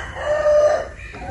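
A single rooster on a farm crows loudly and close by in one sustained call, with no one talking over it.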